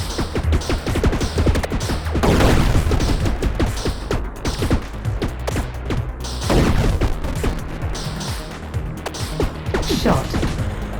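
Repeated tank cannon shots in the Atari 50 game Quadratank, a dense run of sharp blasts and crashes over a low droning game soundtrack, loud and continuous throughout.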